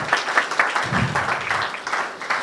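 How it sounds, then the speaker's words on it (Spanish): Church congregation applauding God during a Spanish-language worship service, a dense, steady wash of many hands clapping for a couple of seconds in a reverberant room. "dale un aplauso fuerte a Dios"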